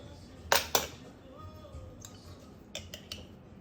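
A spoon clinks against kitchen dishes and cutlery while cooking bake and accra: two sharp metallic clatters close by, then a few lighter clinks, with a quiet room behind.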